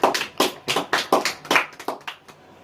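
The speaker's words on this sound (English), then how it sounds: "Let's get a round of applause for the round table pillow talk." A small group claps at the opening of a casual round-table talk show, about a dozen distinct bursts in an uneven rhythm, close and fairly loud, fading out toward the end.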